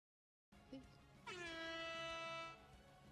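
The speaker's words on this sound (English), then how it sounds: "Where did the air horn come from?" An air horn sample blares once, loud and sustained for about a second, during a live game stream, with a faint voice just before it.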